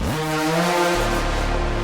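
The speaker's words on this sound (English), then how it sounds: "Here are the reverb throws." Sustained synth pad in a melodic techno track with long reverb throws, a reverberant wash that swells and shifts partway through, dense and loud with no voices.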